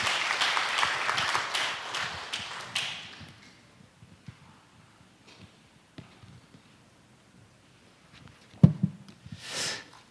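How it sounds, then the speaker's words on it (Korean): A church congregation claps to welcome a pastor to the pulpit, a burst of applause that fades within a few seconds into near quiet, followed by a few scattered thumps and small noises. "나오실 때 우리 박수로 환영하겠습니다"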